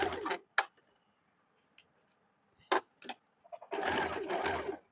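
Sewing machine stitching a blouse in short, close bursts of rapid clatter separated by quiet pauses, ending in a longer continuous run of stitching.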